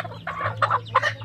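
Basilan chickens cluck close by in short, sharp bursts of three or four calls over a low steady hum.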